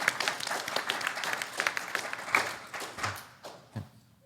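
Audience at an RTX 2019 convention podcast panel clapping, a dense patter of hand claps that gradually thins out and fades over a few seconds, with a few louder thumps near the end.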